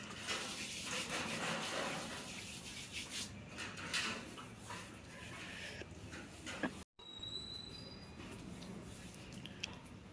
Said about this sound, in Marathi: आता कांदा चांगला तेलामध्ये परतून घ्यायचा आहे.